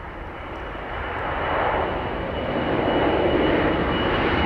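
United Boeing 767 airliner on the runway at London Heathrow, a loud broadband engine roar that grows steadily stronger and holds, with no talk over it.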